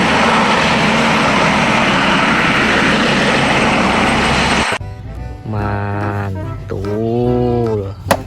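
A toy war helicopter gives off a loud, steady whirring drone that cuts off abruptly, then a series of rising and falling electronic warbling tones.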